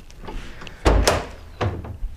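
An emergency-escape door on a homebuilt project airplane swings shut and latches down with a tight seal: a loud thunk followed by a second clunk and a softer closing knock, close by, with no talk.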